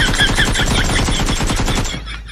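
Rapid automatic gunfire in the PUBG battle royale game, a loud, close burst of evenly spaced shots lasting about two seconds before cutting off, with no talking.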